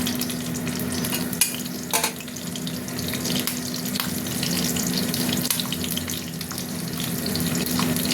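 Sugar and two green chillies fry in hot oil for a spicy fish curry, a steady loud sizzle and crackle throughout, with a couple of brief utensil knocks near the start.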